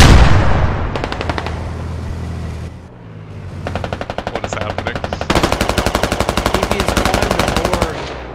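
Rapid automatic cannon fire from a BMP vehicle in the video game Squad, in loud, sustained, evenly pulsed bursts with a brief lull between them, close and dominant.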